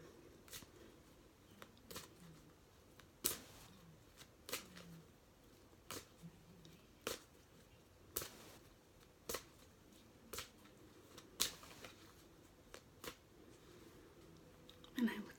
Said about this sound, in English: So I will shuffle the cards up.